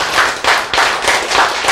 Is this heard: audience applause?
yes